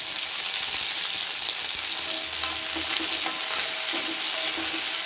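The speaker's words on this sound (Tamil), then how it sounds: "எண்ணெய் ஊற்றி வெங்காயம் பச்சை மிளகா வதக்கி எடுத்துக்கிறோம்." Small onions and two green chillies frying in oil for vendhaya sambar, a loud, dense, continuous sizzle with faint stirring scrapes, close up and without talk.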